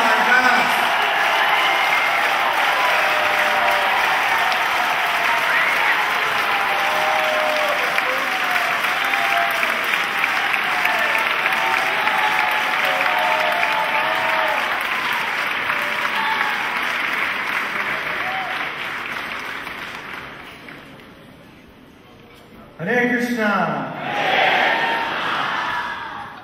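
A large festival audience at an indoor anniversary celebration applauds loudly and steadily for about twenty seconds, then the clapping dies down and a voice speaks over faint remaining applause.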